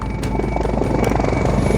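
A Mi-8 or Mi-24 military helicopter roars steadily and loudly nearby, a dense continuous rotor and turbine drone with no pauses.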